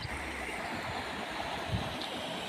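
Constant rushing of floodwater from a river overflowing after heavy overnight rain, broad and turbulent, with wind buffeting the microphone throughout.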